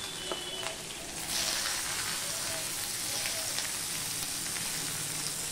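Onions fry in a pan with grated ginger, a steady crackling sizzle that swells after the first second and stays even and moderately close throughout.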